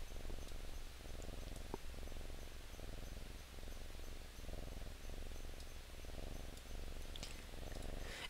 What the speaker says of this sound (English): You have a cat purring.